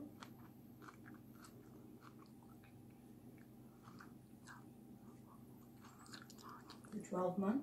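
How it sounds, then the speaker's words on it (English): Chewing sounds from a mukbang eating session, repeated soft crunchy bites and mastication close to the mic in a quiet room, growing louder and fiercer toward the end with a voice occasionally present. "I'm chewing a little bit fiercer."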